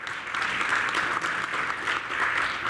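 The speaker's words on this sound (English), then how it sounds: "give him a round of applause" An audience breaks into steady applause for a former university provost, many hands clapping together at an even, full level throughout with no pauses.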